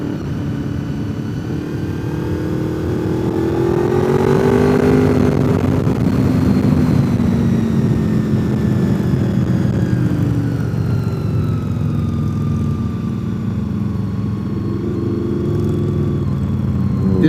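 Harley motorcycles ride ahead on the winding Deals Gap road, their engines droning and rising and falling in pitch with gear changes, heard steadily over the hum of a following Miata.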